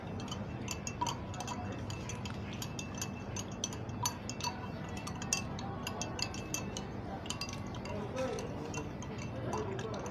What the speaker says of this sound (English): We'll be also stirring this so that we have that nice pink layer at the bottom.